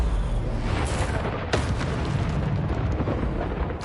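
Fire spell Incendio cast in the Hogwarts Legacy video game: a loud roaring burst of flame with a sharp crackling hit midway, continuous and close, no voices.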